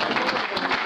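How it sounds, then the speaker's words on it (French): Brief burst of dense audience applause at a French political party meeting, a crowd clapping steadily and fairly loudly for under a second. "On va vraiment applaudir Jean-Philippe"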